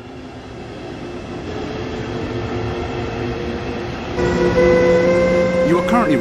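Interior of a double-deck passenger coach hauled by a BR146.2 electric locomotive on the Main-Spessart line between Aschaffenburg and Gemünden, in a train simulator: a continuous rolling rumble with tonal motor whine that grows louder and brighter partway through.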